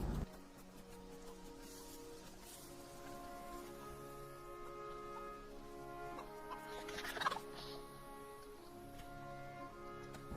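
Chicken clucking in the SQU survival video game, a few soft, close clucks repeating irregularly over a steady game ambience, with one brief louder burst partway through.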